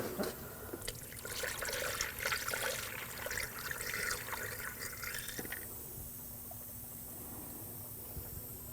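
Coolant trickles and gurgles as it is poured into the cooling system of a 2007-2013 BMW 328i 3.0L inline-six during a water pump replacement, a faint, steady liquid flow that thins out toward the end.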